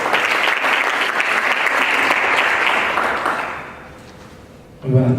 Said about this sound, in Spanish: Fuerte el aplauso para el doctor Juan Reimberto Hurtado Gutiérrez.